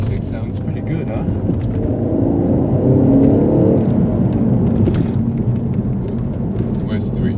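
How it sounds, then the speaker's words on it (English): From inside the car, an Alfa Romeo 147 GTA's Busso V6 hums and swells as it revs, a steady, full cabin drone that climbs and eases. A driver speaks over the engine noise. "Oh, the V6 sounds pretty good, huh?"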